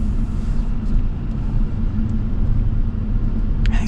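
A 2026 Ram 1500 Warlock pickup truck cruising on the road, heard as a steady low engine and road rumble with constant tire noise, fairly loud and unbroken, with no talking.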